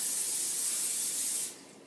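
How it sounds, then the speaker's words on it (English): Cooking spray hisses onto a pan in one continuous, close burst lasting about a second and a half, then cuts off sharply. No voices are heard. "I will be putting the cooking spray onto the pan"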